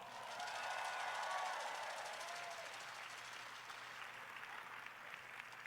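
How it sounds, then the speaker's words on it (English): Audience applause at a large live event, a steady wash of clapping from a big crowd that swells early and then holds level to the end, with faint cheering mixed in. "Give yourselves a big round of applause."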